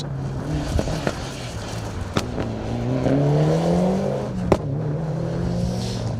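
A small Vauxhall Nova rally car racing hard on a stage, its engine note rising and falling through revving gear changes, with sharp pops and gravel hits as it passes at moderate distance.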